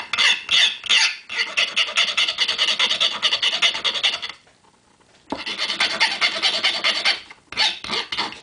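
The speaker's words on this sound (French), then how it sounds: "je prends la lime, et je vais bien remettre le bout bien droit" Metal file rasping the cut end of a model railway rail to square it, a loud close run of rapid back-and-forth strokes that stops briefly for about a second, then resumes; no talk.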